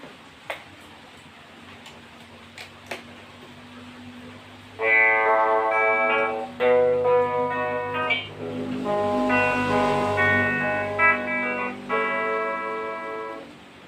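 Clean electric guitar notes and chords played through a Joyo JA-01 mini plug-in amp, after a few quiet ticks, with sustained ringing tones and short pauses.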